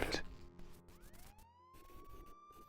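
A police car siren rises in a long upward wail and holds at a steady pitch, heard faintly at a distance after a brief sharp noise at the start.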